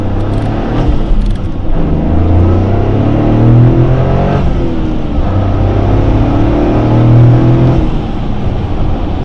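A 2023 Toyota GR Corolla with a carbon fiber intake idles loudly while warming up, a steady deep engine drone with slight rises and dips in revs.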